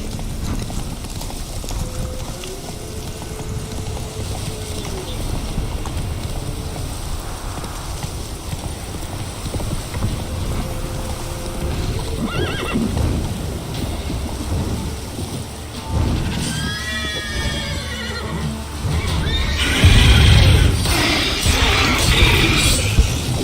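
Roach, the horse in the video game The Witcher 3, gallops with rhythmic hoofbeats through steady rain and rumbling thunder, and a whinny rises briefly near the end.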